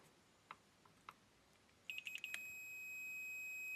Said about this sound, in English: Continuity buzzer